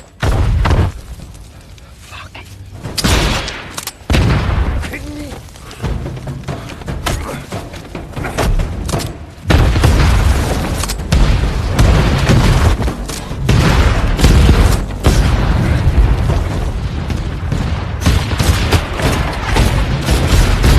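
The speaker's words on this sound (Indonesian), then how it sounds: "Clay meledakkan semua bom yang ada sehingga semua anak buah Wade tewas." Bombs detonating in a film action scene, heavy booms and rumbling blasts layered with dense crashing noise, loud and continuous with a denser stretch in the second half.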